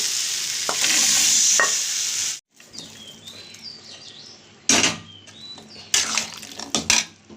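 Boiled chickpeas tipped into a pan of fried masala for chana masala set off a loud sizzle, which cuts out, then returns with sharp scraping stirs and clinks of a utensil against the pan.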